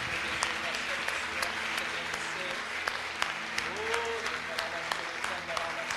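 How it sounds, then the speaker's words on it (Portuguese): A church congregation gives a long round of applause during a worship service, dense continuous clapping with a few sharp individual claps standing out and faint voices underneath. "Dê a melhor salva de palmas para Ele."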